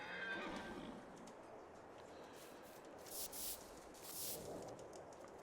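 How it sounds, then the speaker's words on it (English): A horse in Farming Simulator 22 gives a loud neigh with a strong echo, repeated whinnies ringing out over a hissy outdoor farm background. "That horse has a serious echo box going on. She's like, nee, nee, nee, nee, nee, nee."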